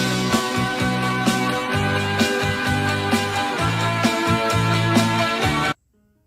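Unidentified 1980s song recording playing back with a steady beat and sustained melodic layers, loud and continuous, then cutting off abruptly near the end.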